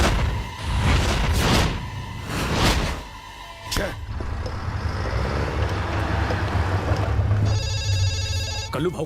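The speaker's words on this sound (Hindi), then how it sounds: "कल्लू भाऊ का फोन है, उसे काट डाला" A phone rings with a bright repeating electronic tone near the end, after loud bursts and ongoing background noise with traffic-like rumble.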